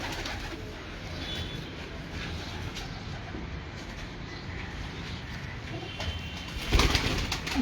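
Pigeons coo softly in a loft, low murmuring calls repeating under a steady background hum, with a brief louder burst near the end.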